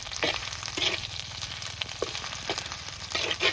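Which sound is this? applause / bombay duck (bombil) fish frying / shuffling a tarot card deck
bombay duck (bombil) fish frying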